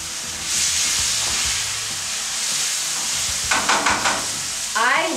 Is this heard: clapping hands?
no